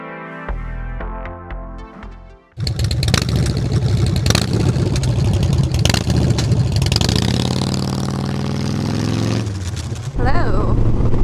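Harley motorcycle engine running steadily and loud while out riding, after a brief quieter start, with a shifting drone and rev changes throughout.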